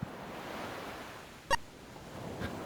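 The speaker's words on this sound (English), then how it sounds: "Sound effect for a port town." Port town pier ambience from the Lunar: Dragon Song game on the DS, a soft steady wash of waves and surf with a brief bright clink midway and a faint swell near the end.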